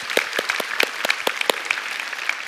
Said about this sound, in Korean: 우리 하나님께 한번 감사의 박수를 드리겠습니다